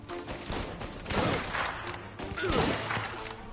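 Gunfire in the video game Mafia: Definitive Edition, bursts of shots and thuds swelling twice amid a busy mix, with voices talking over the action.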